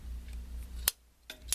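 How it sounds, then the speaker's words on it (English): Shears snip the lead wires on a JL Audio 12W6 or 10W6 subwoofer being reconed, with one crisp close cut followed by two lighter metallic clicks over a low hum. "At this point, we can go ahead and snip."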